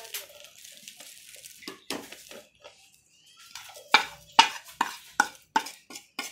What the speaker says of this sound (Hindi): इसको अच्छे तरीके से मिक्स कर लेंगे।